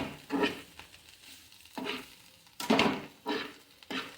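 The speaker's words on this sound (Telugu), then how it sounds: "సాల్ట్ వేసుకుని కలుపుకోండి మంచిగా కలిపి ఇంకొంచెం సేపు వేగనిద్దాం" Jackfruit curry with salt being stirred and fried in a pan, a few close scraping stir strokes mixing with soft sizzling, arriving in uneven bursts.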